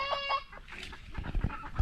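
Young hens cluck on a farm, a few close, short clucking calls at the start, then a busy scatter of softer clucks and scratching noises, with no voices.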